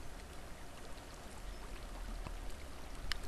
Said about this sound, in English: I suppose we can go up the waterfall.